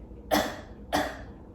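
Two short, light coughs about half a second apart, close by and fairly quiet, with no talking.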